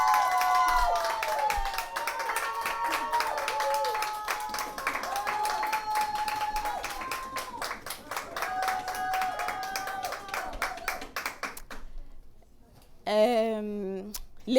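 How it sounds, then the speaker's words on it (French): Audience applause at a 2021 volunteer recognition evening comes as scattered, rhythmic clapping under loud voices, fading out before a brief final burst. "sous vos applaudissements par la famille Bolac, s'il vous plaît."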